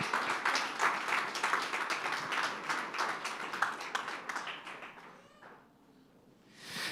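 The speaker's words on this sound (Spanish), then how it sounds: "Fuerte ese aplauso de alabanza al Señor." A church congregation applauds in praise, dense clapping sustained for about five seconds before fading out, then a brief swell of sound returns at the end.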